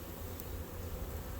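Honey bees from an Italian-type colony hum steadily during a late-February hive inspection, a continuous low, close drone with no talk over it.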